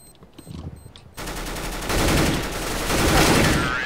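Gunfire in a Counter-Strike: Global Offensive match, opening with a few scattered shots and then a loud, dense burst of rapid rattling fire that holds for several seconds with no talking.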